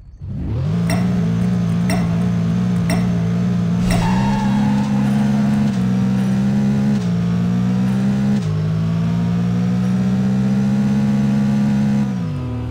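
A Porsche 917 Concept race car in the Apex Racer video game, its engine droning loud and steady close by, rising through repeated shifts with brief dips between gears before falling away at the end.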